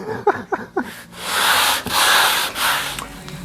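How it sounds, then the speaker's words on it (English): Several short scraping rubs, then long, steady broadband strokes of sandpaper by hand on the inside curve of a wooden steering wheel for a 1939 Hudson, close and fairly loud, with no talking. "Now sanding the inside curve is a little bit more challenging."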